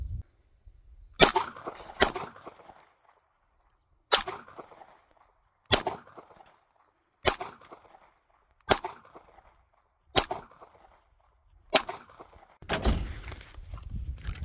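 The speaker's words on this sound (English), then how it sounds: "I'm gonna just put some more bullets in it and see how it goes through like a few rounds here." Hi-Point C9 9mm pistol fired several separate rounds, each a sharp loud report with a short decay, spaced a second or two apart, ending in a noisy rustle of handling.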